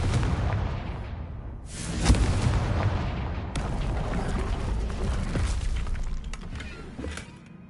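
Fire spell blasts in a wizarding video game, with a sharp booming impact near two seconds and another burst around three and a half seconds over a continuous crackling, rumbling din.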